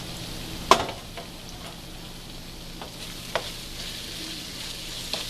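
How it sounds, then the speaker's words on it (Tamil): Tomatoes sauté in a pan with a low, steady sizzle for chicken biryani. A few sharp scrapes and clinks from stirring come through, one of them loud near the start. "தக்காளி நல்லா வதங்கிருச்சு."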